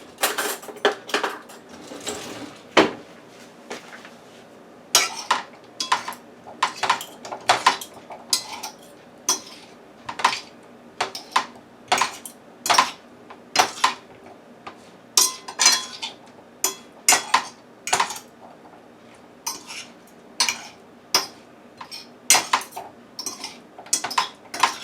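Diced home fries being tossed with a few drops of olive oil in a bowl, a spoon or utensil knocking and clinking against the dish in quick, irregular bursts, close and crisp with short quiet gaps between strokes.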